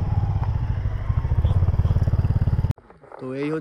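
A motorcycle engine idles and putters in a steady rapid rhythm on an old railway bridge, close and fairly loud, then cuts off abruptly near the end, leaving quiet outdoor ambience with a faint tone.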